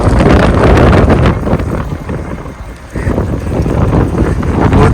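Strong stormy wind blasts loudly and close against the microphone outdoors, a heavy roaring buffet that dips briefly midway and then surges back.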